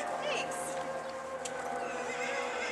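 Horse whinnying in an indoor riding ring during a running-walk class, a fairly near neigh rising over steady arena background noise, with hoof clip-clop and people talking faintly underneath.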